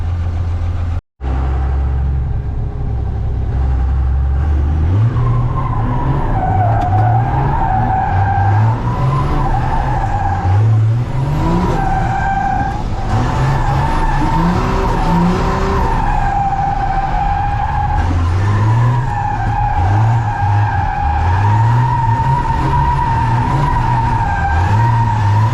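A 600hp 12-valve Cummins diesel truck drifting on a street, its engine roaring loud and close with rising and falling revs while tires squeal and skid almost continuously throughout.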